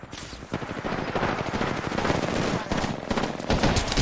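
Automatic weapon fire in the video game Apex Legends, a loud, sustained burst of rapid shots with brief gaps, layered over game ambience throughout.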